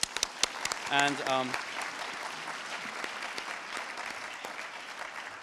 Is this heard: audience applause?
yes